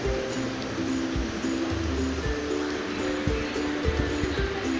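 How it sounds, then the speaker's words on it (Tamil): Peeled, cut small onions sauté in a pan for a raw mango curry, giving a steady close sizzle with occasional light clinks of stirring. "அதை ஆட் பண்ணி நல்லா வதக்கிக்கலாம்."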